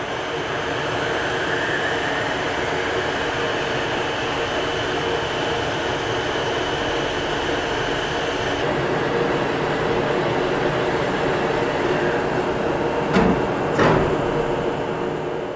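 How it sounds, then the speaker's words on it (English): A chairlift ropeway's main drive motor runs as a loud, steady mechanical drone that shifts slightly as it ramps up after a section handover, with a brief clatter near the end. "You can even hear the main motor ramping up after a handover."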